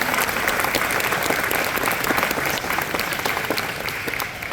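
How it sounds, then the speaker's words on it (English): Audience applauding a junior varsity football team at a school fall football and cheer awards night, steady dense clapping from a large crowd filling the room without letup. "So go ahead and give these guys a round of applause"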